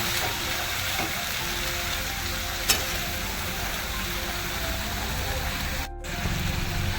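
Cabbage bhaji (kobichi bhaji) sizzles and fries steadily in a pan while it is stirred, giving a continuous close hiss with a couple of faint clicks and a brief dip near the end.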